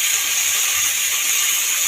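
Gime greens fry with potatoes and onions in a pan, giving a steady, loud, close hissing sizzle with no talking.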